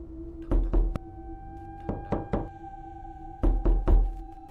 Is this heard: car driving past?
no